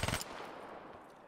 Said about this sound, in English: I just need you to aim down your sights and shoot someone.